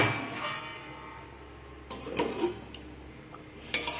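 A metal lid is set onto a cooking pot of potatoes, tomatoes and water, with a few short, close metallic clinks and a light clatter near the end of an otherwise quiet moment.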